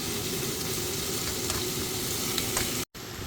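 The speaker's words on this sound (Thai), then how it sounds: "วันนี้เราก็มี หมูบดนะคะ เราก็เอามาคั่วบักคั่วให้สุก คั่วให้สุกเพื่อที่จะได้ปรุงรสนะคะ คั่วให้น้ำเขาแห้งๆก่อน" Minced pork dry-fries in a pan with a steady, dense sizzle and occasional stirring scrapes, continuous and close, cut by a brief silent gap near the end.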